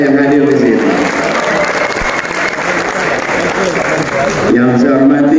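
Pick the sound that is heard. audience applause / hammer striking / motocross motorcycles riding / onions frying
audience applause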